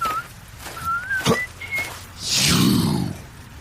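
Someone whistles a short melody in thin, clear notes, followed by a breathy rushing noise; faint background sounds throughout.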